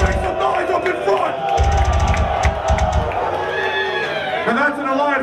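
A crowd at a live metal concert cheers and shouts loudly, with bursts of heavy low rumble and a whistling, rising voice cutting through the roar near the end.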